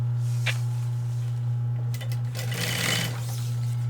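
A sewing machine stitches backpack pieces together with PVC or clear plastic and EVA foam, a loud, steady motor hum broken by a brief fabric rustle and a quick burst of faster stitching.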